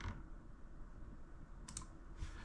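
Computer mouse clicks while working in FreeCAD, a couple of quick, faint sharp clicks near the end over a quiet background.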